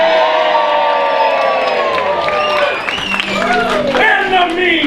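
A crowd cheering and whooping loudly in an animated film scene, overlapping excited shouts and rising voices filling the whole clip, close and dense.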